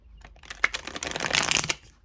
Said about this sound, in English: I just hand over hand shuffle